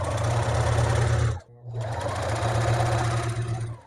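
A sewing machine stitching the hem of a tweed coat lining, a loud, close, steady whirring hum in two runs with a brief pause between them.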